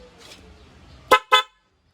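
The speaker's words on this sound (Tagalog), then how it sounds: "Pag naka-off, stock horn. Pag pindot nyo, loud horn." Two short, loud blasts from a car's added loud horn in quick succession, following a stretch of quiet background hum.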